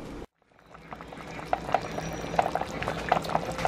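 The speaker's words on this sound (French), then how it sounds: "on va laisser bouillir et après on va revenir" Fish pepper soup made with catfish bubbling in a pot, a steady close simmering hiss with scattered soft pops and bursts of bubbles.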